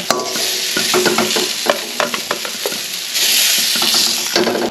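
Bitter gourd fries in oil in a wok with a loud, close sizzle, punctuated by rhythmic scraping and clinking as a spatula stirs the pieces.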